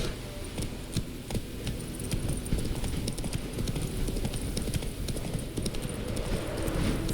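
Geralt's horse Roach trots along in The Witcher 3, hooves clip-clopping in a steady, close rhythm over a low background hum throughout.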